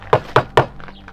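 Three loud, evenly spaced knocks on a front door, close by, followed by a brief faint rustle.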